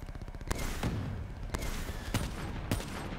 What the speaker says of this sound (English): Oh, I can just shoot them through the wall.